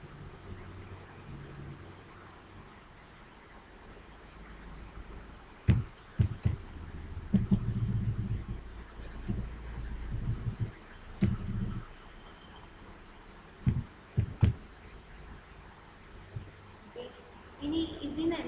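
Typing on a computer keyboard while working in MS Excel, scattered bursts of soft key clicks and taps over a quiet room hum, some keystrokes sharper and more isolated.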